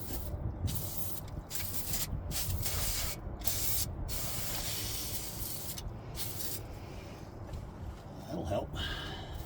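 Bursts of penetrating lubricant sprayed onto bolts during a Ford 9 inch axle swap under a Jeep YJ Wrangler, several sharp close hissing spurts broken by short pauses.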